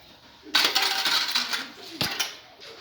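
Small lumps of charcoal clatter into a metal brazier set over cooked rice for smoky flavour, a close, bright burst of clinking pieces followed by scattered knocks and one sharp clack.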